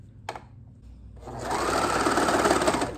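A sewing machine stitching a blanket, a short tap and then the motor spinning up into a steady loud whirring run of rapid stitches, close and alone without talk.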